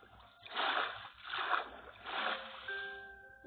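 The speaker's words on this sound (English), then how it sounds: "I'm about to go into the water." Water splashes in a video game as a character jumps in: three swelling, washy splashes in a row, moderately loud, followed by a thin electronic tone.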